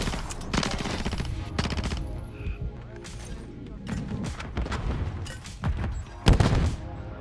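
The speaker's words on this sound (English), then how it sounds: "Nice flashbang." Rapid automatic gunfire bursts and a sharp flashbang blast in the Black Ops 6 video game, with loud clustered volleys separated by short gaps and a person talking over the action.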